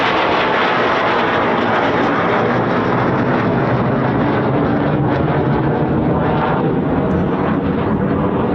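Eurofighter Typhoon FGR4 jet at an RAF station, a loud, steady broadband roar filling the whole stretch with no breaks, close and powerful, with no voices over it.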